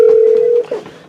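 A business telephone on a Norstar office phone system dials out to another extension, sounding a short, loud, steady tone that cuts off and is followed by a fainter blip.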